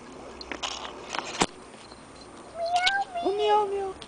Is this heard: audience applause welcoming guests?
no